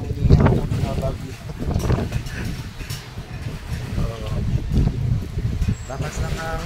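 Strong gusty wind during a storm buffets an outdoor grill where eggplant and other food is roasting, rumbling loudly against the microphone in rolling surges, with a few voices faintly under it.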